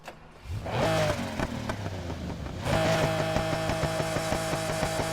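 A vintage engine's exhaust revving in the Need for Speed Heat racing game, rising through a throttle blip and then holding a steady loud roar with a bright tonal whine, with no voices.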